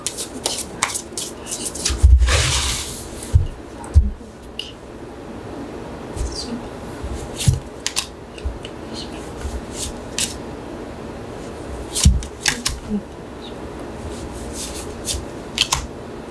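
Tarot cards being shuffled and drawn by hand in a quiet room: soft riffling and sliding of the deck with occasional sharp slaps and flicks as cards are pulled out and laid down, close and without talk.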